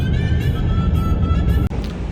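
Heavy New Year road traffic around a car in Abu Dhabi, heard from inside as a loud, steady low rumble with a droning tonal hum and a brief dip near the end.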